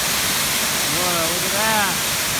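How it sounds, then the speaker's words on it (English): A mountain waterfall in Pisgah National Forest, North Carolina, roars as a loud, steady broadband rush, with someone speaking briefly over the constant water noise. "We have a waterfall."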